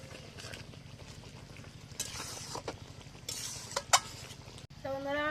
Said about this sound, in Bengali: গরম মশলাটা বেটে রাখছিলাম সেটা দিয়ে দেবো দিয়ে একটু নাড়াচাড়া করে দেবো